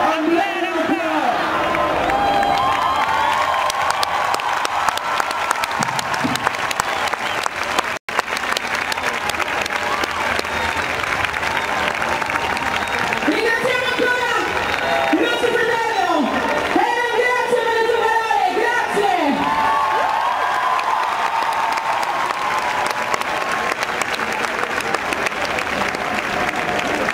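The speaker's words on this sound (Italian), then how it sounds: "Facciamo un applauso." Sustained crowd applause with scattered cheers and whoops at a Black Lives Matter protest in Italy honoring George Floyd, loud and continuous throughout, with voices mixed into the clapping.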